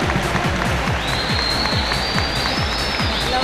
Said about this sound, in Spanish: aplauso muy fuerte para nuestra primera dama, para nuestro alcalde